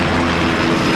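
Helicopter flying overhead at a theme park, SeaWorld Orlando, producing a loud, steady rotor and engine roar that fills the whole moment without any talk.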